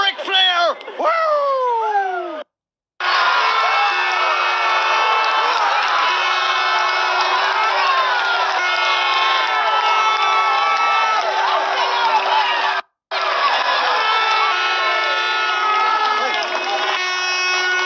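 A loud crowd cheers and whoops for an All-Ireland minor championship-winning team, a dense continuous roar of raised voices that briefly cuts out twice.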